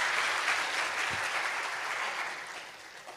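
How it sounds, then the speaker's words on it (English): Steady applause from a crowd at an honorary doctorate ceremony in Korea, a dense wash of clapping that holds at an even level for the whole stretch and tapers slightly at the end. "Please give him a big round of applause."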